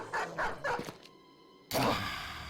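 Dogs bark several times in a quick run inside the Battle Brothers video game, followed by a sharp loud thunk and a burst of combat noise.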